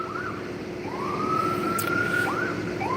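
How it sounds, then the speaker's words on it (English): An ambulance siren wails near a roadside DUI checkpoint, its rising and falling tone repeating over steady traffic noise, moderately loud and getting closer. "So this must be the ambulance coming up for this poor young lady"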